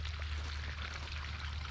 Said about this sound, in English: we already got water flowing out the pipe.